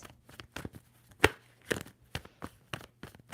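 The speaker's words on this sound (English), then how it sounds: "Two more shuffles for Pisces." A tarot deck is shuffled in quick irregular snaps and papery flicks, close and crisp, with one louder slap among the shorter bursts and no talking.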